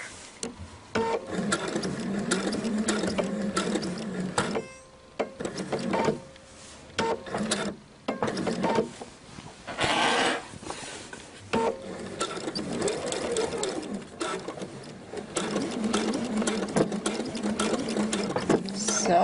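A domestic sewing machine stitches a jacket of reversible two-sided fabric with a lengthened stitch, running in steady bursts of rapid mechanical chatter broken by short pauses near five, eight and ten seconds.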